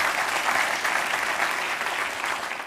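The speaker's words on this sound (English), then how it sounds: "Round of applause for our 2 volunteers." Audience members at a company culture talk give two volunteers a round of applause. It comes as an even, continuous wash of clapping from a crowd at moderate volume, with no voices over it.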